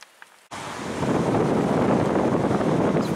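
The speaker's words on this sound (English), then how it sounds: "A little bit of rain coming down." Steady rain falling outdoors on a rocky coastal stretch in Norway, starting abruptly after a brief quiet and settling into a dense, continuous hiss with some wind-like rumble, fairly loud and close, no voices.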